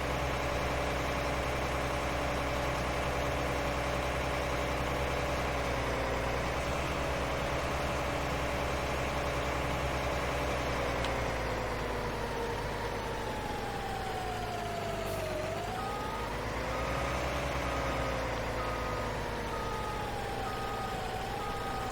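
John Deere tractor engine idling in Farming Simulator 19, a steady, loud droning hum that holds throughout, its pitch dipping briefly and then recovering, with no talk.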